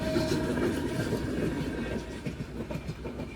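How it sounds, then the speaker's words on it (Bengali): A train rumbles past close by a level crossing, steady and loud, with rhythmic clickety-clack of wheels on rails throughout. "ট্রেন চলে আসলো"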